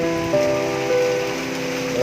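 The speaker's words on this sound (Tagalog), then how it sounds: "Lakas ang ulan guys oh." Heavy rain falls outdoors as a steady, dense hiss on surfaces, constant and fairly loud, with a tonal hum running underneath.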